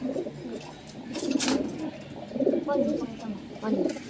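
Soft, low pigeon coos repeat in short phrases over a faint background hiss, with a brief rustle in the middle.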